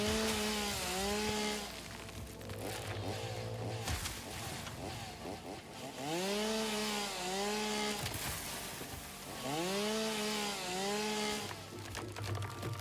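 A chainsaw cutting wood in the Satisfactory video game, engine revving up and down in repeated surges with pitch sweeps as it bites, moderately loud and close over a low idle between cuts.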